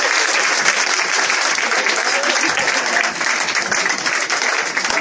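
A church congregation applauds to acclaim Jesus, steady and dense clapping from a large crowd that holds at full loudness throughout without pause.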